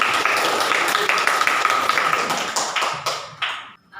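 A class of students in an Indonesian language lesson bursts into close, loud group clapping for about three seconds. The clapping thins into a few scattered claps and then stops abruptly.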